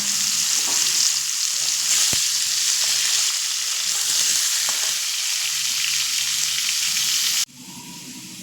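Jackfruit pieces, already boiled with salt and turmeric, frying in a pan: a steady, dense sizzle with occasional stirring clicks, loud and close, dropping to a quieter hiss near the end.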